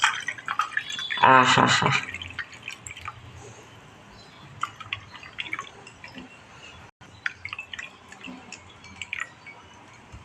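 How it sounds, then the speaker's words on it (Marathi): Plain water is poured into an iced lemon drink, a short splashing burst near the start followed by scattered drips and small liquid sounds, with a voice murmuring in the background. "बर्फ घातलेला आहे त्याच्यामुळे याच्यात साधंच पाणी घालणार आहोत."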